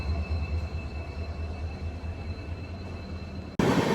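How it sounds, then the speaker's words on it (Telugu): Container wagons of a goods train pulled by twin diesel locomotives rumble steadily past at close range, then the noise jumps abruptly louder and harsher in the final moment. "ఆఫ్ కోర్స్ కంటైనర్ ట్రైన్ అనుకోండి,"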